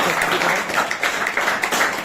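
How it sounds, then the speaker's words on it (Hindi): A school audience of students and staff claps for the 9th class students at the Kaushalam grand finale of GHSS Badeer, a dense, loud, steady wash of many hands that carries through the whole moment. "तो 9th क्लास के लिए जोरदार तालियां।"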